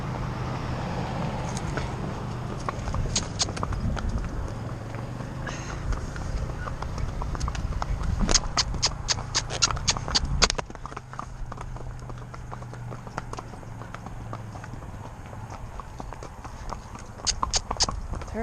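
A pony's hooves clip-clop steadily on a hard town road at a walking pace, close by, with passing traffic rumbling and occasional voices.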